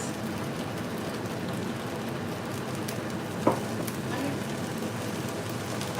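Broccoli hitting a hot frying pan during a stir-fry of egg fried rice with vegetables, a steady crackling sizzle throughout with one brief louder spatter midway, close and continuous.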